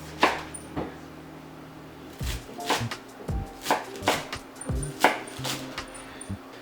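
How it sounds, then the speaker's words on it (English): Knife rough-chopping fresh cilantro on a cutting board, a series of sharp irregular thuds, a couple of isolated strikes then a quicker run of about eight chops, close and clear with no talk. "Starting with the cilantro, just get this rough chop."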